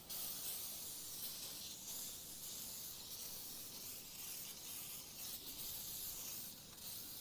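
Soft, continuous hiss of cleaner being sprayed onto a snow blower, faint and close, with slight pulses in intensity and no talking.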